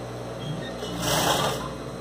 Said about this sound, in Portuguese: Eu vou costurar todas elas primeiro, e aí depois eu passo o cursor em todas elas.